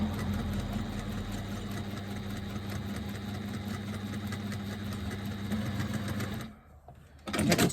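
A sewing machine stitches fabric over foam with a fast, steady mechanical whir and patter, pauses briefly near the end, then starts again.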